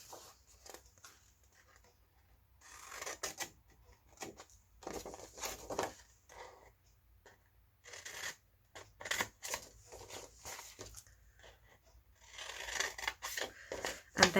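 Scissors snip through patterned designer paper for a stamped treat bag craft project, producing crisp close-up cuts in short irregular runs separated by quiet pauses.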